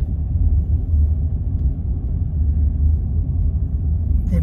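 A car drives along Sandy Lane in Chadderton, a bumpy road, with a steady, close, low rumble of tyres and engine that holds level throughout, without pauses.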